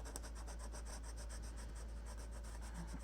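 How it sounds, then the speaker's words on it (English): Steady, continuous rasping of a sanding block rubbed back and forth, sanding paper off a scrapbook folio wrapper, close up, with a faint low hum underneath and no voices. "I'm just sanding off the paper."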